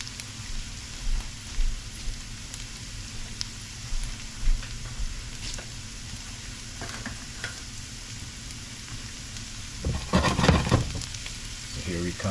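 Shrimp frying in a pan with translucent onions, giving a continuous hissing sizzle with small crackles throughout that swells louder and busier near the end as more shrimp go in.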